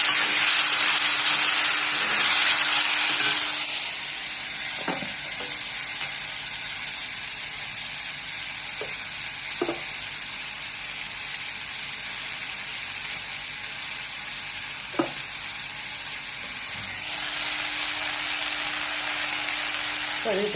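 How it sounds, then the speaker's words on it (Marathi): Sprouted moong and chavali beans sautéing in a pan, giving a steady soft hiss with a few faint scraping stirs now and then; a brighter sizzle fades after the opening seconds. "आता असं थोडेसे परतून घ्या. आता छान परतलं चाललं. एक 2 मिनटं भाजून घेतलं."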